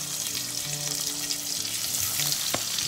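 Pressure-cooked beef tongue sizzles in hot pork lard in a pan, a loud, continuous close fry with crackling and a sharp spatter burst toward the end; no voices.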